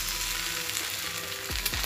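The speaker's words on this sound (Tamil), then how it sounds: "முட்டை கொஞ்சம் ஃப்ரை ஆகும்." Eggs fry in a pan for kothu parotta with a steady, close sizzle and faint tonal hum, joined near the end by a couple of short sliding scrapes, without any speech.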